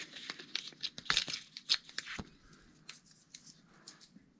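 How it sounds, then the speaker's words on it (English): Masking tape ends being torn off leather prepared for tooling a floral belt, a quick series of close, quiet ripping and crinkling bursts that thin out into sparse soft ticks. "I just rip the ends off so that I don't have tape hanging off the edges"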